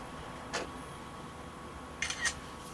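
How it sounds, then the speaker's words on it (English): A camera fires two quick shutter clicks, then a short double-click a moment later, while photographing the screw holes of an Asus Q502L laptop on a quiet workbench. "I'm going to take a picture of them now."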